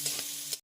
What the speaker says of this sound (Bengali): তো এই গাজর আর আলুটা প্রায় ভাজা ভাজা হয়ে এসছে।